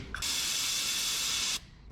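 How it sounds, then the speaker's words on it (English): Spray cleaner hisses onto a 1999 Chevy S10 brake line in a steady burst of about one and a half seconds, loud and close, with a faint click at the start and quiet after. "We'll wire wheel that mess and then we'll just spray it down because that mess ain't good in our brake line"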